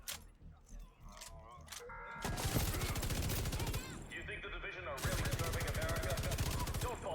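A light machine gun in The Division 2 fires long sustained bursts, rapid close rattling in two extended strings with a brief gap between, under someone speaking.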